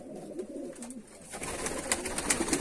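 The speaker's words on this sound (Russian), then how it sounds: "голуби здесь белые, основная здесь лохмоногие белые грыгуны" White feather-footed tumbler pigeons coo in low, rolling repeated calls, steady and fairly close, with a busier flock murmur and faint rustling rising toward the end.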